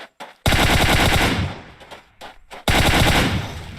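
Loud automatic gunfire in a video game match, delivered in two long close bursts separated by short pauses and a few isolated shots.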